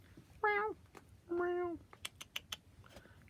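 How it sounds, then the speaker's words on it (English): A small kitty cat gives two clear meows close by, the second longer and steadier, followed by a run of light clicking taps. "And look at that little kitty cat."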